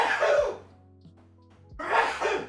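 Two sharp, loud sneeze-like bursts sound close by, separated by about a second of near silence with a faint low hum beneath, and no talking in between.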